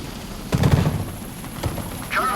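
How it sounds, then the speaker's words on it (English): Gunfire from the video game Deadlight: a burst of shots, then a single shot a second later, sounding moderately distant over a low ambient background. "That's gunfire."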